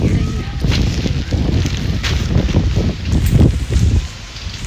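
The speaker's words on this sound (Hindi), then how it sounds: "बहुत बड़ी हवा चल रही" Strong wind gusting outdoors, a loud, continuous rumbling roar with buffeting bursts against the microphone, steady for several seconds.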